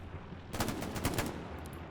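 Bursts of rapid gunfire in the Hell Let Loose video game, a quick rattling volley of several shots close together lasting about a second, loud against a low ambient background.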